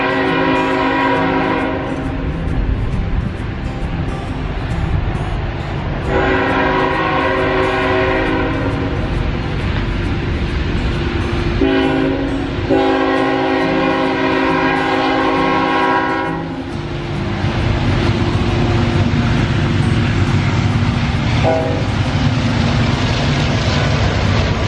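Freight or passenger train rolls through a railroad crossing, heard from a stopped vehicle: continuous heavy rumble and wheel noise, with several long, loud horn blasts repeating across the passage, close and dominant throughout.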